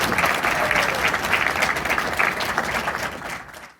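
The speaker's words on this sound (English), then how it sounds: "You can applaud for them, that's great." An audience at a haunted-attraction industry awards ceremony applauds vendor award winner Cyclone Signs with loud, sustained clapping that stays dense for a few seconds and then cuts off quickly.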